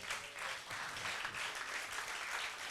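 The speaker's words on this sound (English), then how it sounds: "Let us stand and please give them a round of applause" Standing audience applauding young volunteers in the Gambia, steady dense clapping that holds at an even level for a few seconds, fairly distant and soft.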